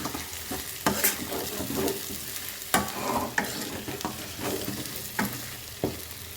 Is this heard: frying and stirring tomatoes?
yes